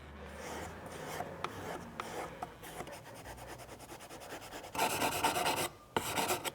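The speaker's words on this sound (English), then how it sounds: "I'm going to push the burr back." An Okatsune blade is stroked on a sharpening stone to push the burr back, a run of short raspy scraping strokes, close and fairly quiet, ending in a few longer, louder passes.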